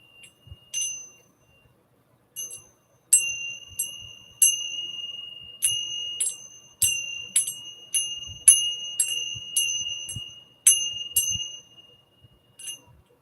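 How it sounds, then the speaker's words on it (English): Two brass bells strung on a leather strap ring out in a series of bright, clear chimes, with short pauses between strikes and each tone ringing on briefly, close and fairly loud with no voices. "they're two brass bells on a piece of leather"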